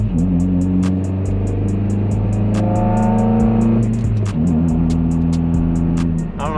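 A loud engine of a Mitsubishi Lancer fitted with an Injen aftermarket air intake idles and revs with a deep, throaty rumble, rising in pitch briefly before settling back, steady and close throughout.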